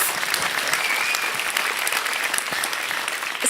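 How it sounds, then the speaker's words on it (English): A room full of people claps steadily and continuously, a dense wash of applause without any voices standing out. "let's give him a round of applause"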